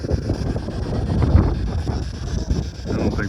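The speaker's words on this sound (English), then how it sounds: "And the wind's blowing this way." Night wind buffets outdoors in a steady low rumbling gust, loud and close with brief surges, as it blows across the open ground of the Chalmette Battlefield near New Orleans.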